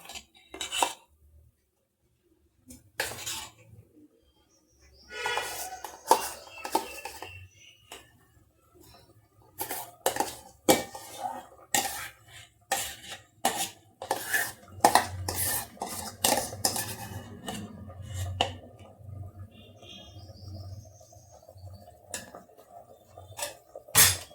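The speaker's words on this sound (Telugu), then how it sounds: "ఇలా మొత్తం ఈ పేస్ట్ అంతా ఈ గిన్నెలో ఇలా కలపాలండి." Chana dal paste being stirred into chopped vegetables in a metal pot for Andhra-style katta, heard as irregular scraping clinks and knocks of a spoon against the pot. The sounds are close and come in bursts, with brief pauses between them.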